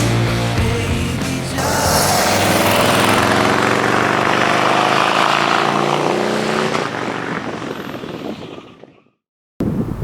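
A 2022 Harley-Davidson Street Bob FXBBS motorcycle engine roars loud and close with a steady, slightly rising pitch, then tapers off and cuts out near the end.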